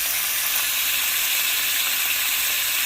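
Chopped onions fry in a pan with garlic for Filipino pancit, giving a loud, steady, bright sizzle that holds evenly throughout with no pauses and no voices over it.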